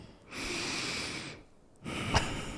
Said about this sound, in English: I'm going to try to fill this empty noise with my breathing